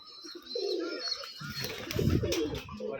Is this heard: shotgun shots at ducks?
no